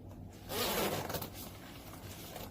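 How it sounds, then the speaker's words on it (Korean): A zipper is drawn up on a padded jacket being tried on, one quick rasping pull that swells briefly and fades, close and fairly quiet with no talking. "지퍼를 한번 채워봐 주세요."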